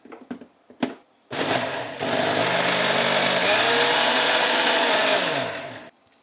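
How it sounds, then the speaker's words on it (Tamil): Mixer grinder whirring as it blends curd until creamy, a steady, loud motor drone lasting several seconds with a shifting pitch, preceded by a few small clicks and knocks before it starts. "ஸோ இந்த தயிர் வந்து கொஞ்சம் மிக்சியில் அடிச்சுக்கலாம்."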